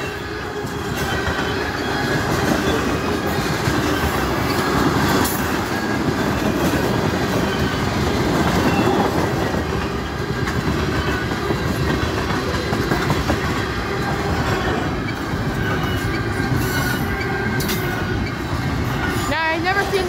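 A long intermodal freight train rolls steadily past at close range, its wheels giving a continuous loud rumble and clatter with faint squeals for the full length. No one speaks over it.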